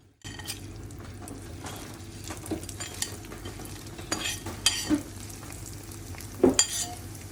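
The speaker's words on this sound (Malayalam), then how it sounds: "ഒന്നും കൂടി ഹൈ ഫ്ലെയിമിൽ ഇട്ടിട്ട് പെട്ടെന്ന് വറുത്തെടുത്താൽ ഒന്നും കൂടി ക്രിസ്പി ഉണ്ടാവും" Cauliflower for gobi manchurian fries crisp in hot oil on a high flame, a steady close sizzle broken by a few stirring scrapes and spoon clinks against the pan.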